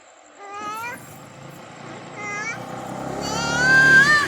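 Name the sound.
cat meowing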